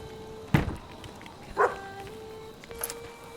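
Three short, separate dog barks in the video game Maid of Sker, spaced about a second apart, close and mid-loud, with a faint steady tone humming in the background.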